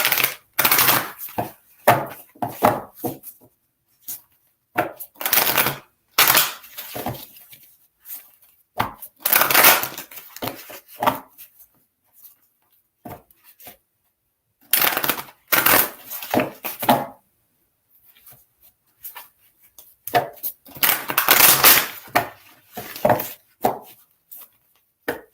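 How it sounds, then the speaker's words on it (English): Tarot cards are shuffled in repeated bursts of crisp riffling and slapping, clustered flurries separated by short pauses, close and moderately loud with no voice over them. "sometimes I have to shuffle the cards quite a bit until they feel right."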